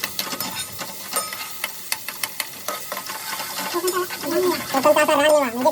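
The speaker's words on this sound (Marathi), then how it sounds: "कांदा पूर्ण तळला पाहिजे तेलामध्ये." Chopped onion and green chilli frying in oil in a pan for a mushroom curry. A close, steady sizzle with regular stirring scrapes, and someone speaks over it toward the end.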